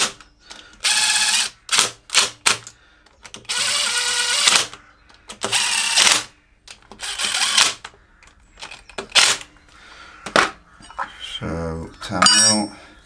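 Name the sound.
impact driver running in bolts on motorcycle cover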